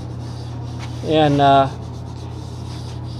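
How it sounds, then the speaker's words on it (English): A steady hum runs throughout while a brief raspy burst of sanding wood on a camper rises for about half a second; a voice briefly speaks. "So we're sanding away here."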